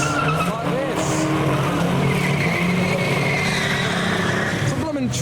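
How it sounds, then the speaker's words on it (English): Race cars at a NASCAR event revving their engines together in a loud, continuous roar with sustained tire squeal on top, and voices talking over the din throughout. "He's holding up a sign to tell everyone to rev their engines, to blow out the cobwebs, like this."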